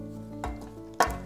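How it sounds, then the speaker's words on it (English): Taro leaves cooking in coconut milk get gently stirred in a pot, two soft scraping pushes of the spoon over a quiet simmering sizzle, close and low in level. "just check it and gently stir"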